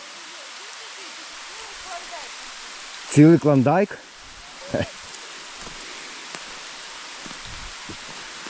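Steady rain falling in a forest, a soft even hiss of drops on leaves throughout, with a short burst of nearby talk partway through.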